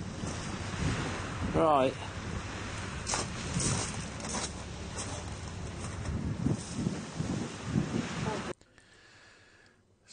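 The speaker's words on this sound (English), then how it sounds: "The wind is gusting" Wind gusts rumble across the microphone on a sailboat over open water at sea, rising and falling in bursts, with a few spoken words, before cutting to near silence.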